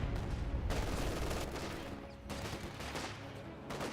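Distant rifle and machine-gun fire crackles through a Company of Heroes 2 battle between Grenadiers and riflemen, in steady faint bursts with occasional heavier thumps beneath, no talk present.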